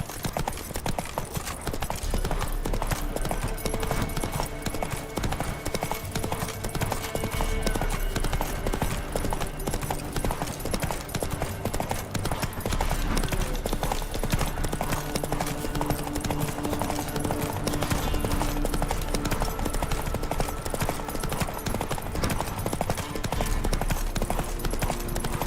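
Roach the horse's hooves clip-clop steadily and continuously in The Witcher 3, a loud, even stepping rhythm that carries on for the whole stretch with no voices over it.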